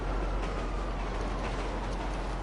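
A train in GTA 5 Online rumbling along the tracks, a loud, steady low roar with a faint rattle, no speech.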